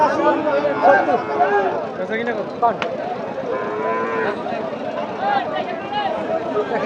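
Cattle low repeatedly at a busy livestock market in Nilphamari, their long, drawn-out calls rising over a steady murmur of crowd chatter and nearby voices.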